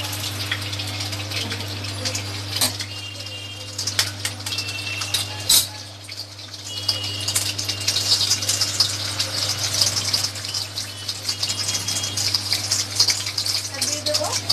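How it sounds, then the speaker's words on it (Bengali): An egg frying in a small amount of oil in a pan for a one-pot noodle dish, giving a steady, close sizzle and crackle over a low constant hum. "আমি ডিমটাকে প্রথমে ভেজে নেব"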